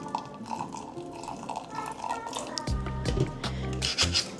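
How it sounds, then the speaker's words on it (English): Warm water pours into a bowl of matcha powder, a soft liquid splash and trickle with a few drips, heard close up with no one speaking. "now I'm going to pour some warm water into my matcha"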